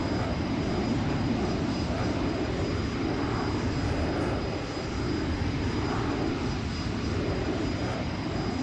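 A simulated airliner in the X-Plane 11 flight simulator makes a fast pass, a loud, steady engine roar holding constant throughout with only a slight dip midway and no talk.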